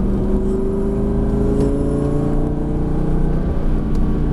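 A Lamborghini Gallardo accelerates hard on the Lédenon race track, its engine a loud, steady, close roar with rising tonal whine held throughout.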